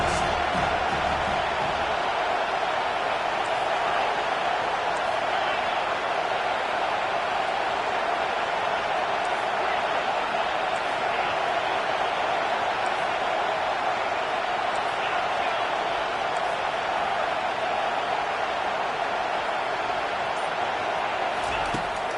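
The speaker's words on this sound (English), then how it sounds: "this crowd is making it miserable on this offense" A stadium crowd in the College Football 25 video game roars continuously at a fourth-down play, a dense, loud, unbroken wall of noise with no clear breaks.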